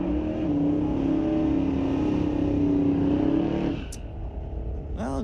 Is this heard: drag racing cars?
yes